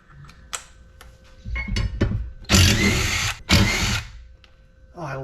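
A power drill backs screws out of a cast aluminum LED light fixture, with several short whirring bursts followed by two long, loud runs of the drill, close up, and brief clanks of metal between them.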